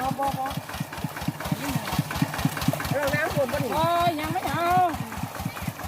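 A farm tractor engine idles with a steady low chugging rhythm in a rice field, while people talk over it throughout.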